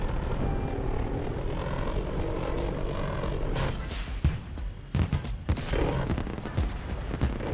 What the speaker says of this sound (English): I think my teammate just shot down that spy plane.